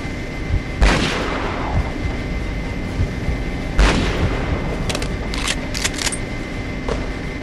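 Two heavy artillery shots in the war game Conflict: Desert Storm 2, each a sharp booming blast with a rolling tail over a steady engine rumble, followed by quick metallic rattling.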